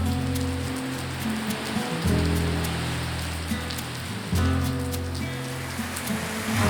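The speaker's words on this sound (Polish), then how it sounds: "Leje przerażająco i tak ma być jeszcze w nocy." Heavy rain pouring down in the Uruguayan pampa, a dense, loud, continuous hiss of drops on surfaces with a low steady hum running beneath it.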